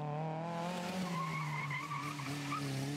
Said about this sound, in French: on continue d'en pincer pour la première version de la Honda Civic qui date de la fin des années 70, traditionnellement présentée par Dominique